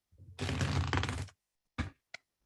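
Cards being shuffled for a reading, one long riffling burst up close, followed by two short quick snaps as the deck settles, in an otherwise silent room.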